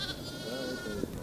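Sheep from a beginning farmer's flock in a mountain village bleat in a short, wavering call, moderately close over a steady outdoor background.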